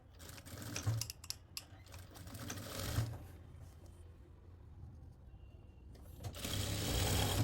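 A sewing machine stitches a curved seam on a lined suit, quiet rapid mechanical chatter coming in several bursts separated by pauses, the final run longer and louder.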